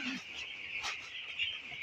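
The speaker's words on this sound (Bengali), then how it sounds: "এগুলো হচ্ছে আমাদের ফেরাগুন বাচ্চাগুলো তেরোশো বিশ পিস" Fourteen-day-old broiler chicks chirp in a poultry shed, a faint continuous high peeping chorus from many birds with no voices.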